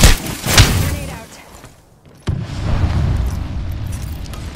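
Grenade blast in the Apex Legends video game: a loud opening burst of booms and pops, a brief lull, then a sharp second explosion that falls into a sustained rumble, with speech faintly mixed in.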